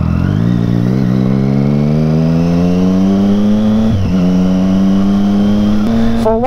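A motorcycle engine with water in its fuel tank revs loudly and steadily, pitch climbing gradually over several seconds with a brief dip near the middle and a sharper blip at the end.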